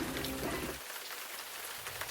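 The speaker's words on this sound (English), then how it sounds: "and still the rain came down" Rain pours down as a sound effect in a read-aloud children's story, a steady broadband hiss that is heavier at first and then continues at a lighter, even level throughout, with no voices.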